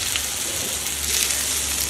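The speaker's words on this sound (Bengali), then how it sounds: "খুব ভালোভাবে টমেটোগুলোকে পেঁয়াজের সাথে কষিয়ে নেব।" Tomatoes sautéing with lightly browned onions in a pan, giving a steady, soft sizzle with faint crackle throughout, with no speech.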